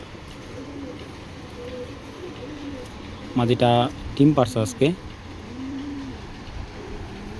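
Soft, low racing pigeon coos drift in the background, with a voice speaking briefly in the middle.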